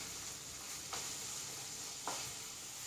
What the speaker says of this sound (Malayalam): എല്ലാം കൂടി ഒന്ന് നന്നായിട്ട് വഴണ്ട് വരട്ടെ.